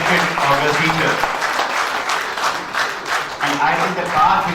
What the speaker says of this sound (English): let's first have a round of applause for the grand institution